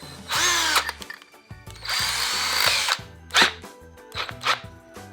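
A Bauer 20V Hypermax lithium cordless drill whines in short bursts, two longer runs followed by quick triggers, loud and close, with no talk.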